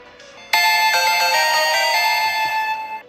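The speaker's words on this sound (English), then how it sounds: "my phone just made that noise" A phone gives a loud, bright electronic chime: a short lead-in tone, then a sustained melodic ring of about two and a half seconds that fades out.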